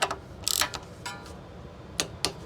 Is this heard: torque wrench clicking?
yes